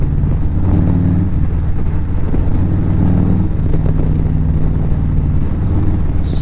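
A Harley motorcycle in fifth gear roars steadily under load in an aggressive riding mode, a loud, continuous low exhaust rumble with wind noise throughout.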